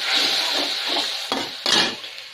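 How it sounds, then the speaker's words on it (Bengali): Food stir-fries in a hot pan with salt, yellow powder and water, a steady close sizzle broken by several louder scraping stirs near the end, with no voices. "এটা ভাজা ভাজা হয়ে যাবে ইনশাল্লাহ।"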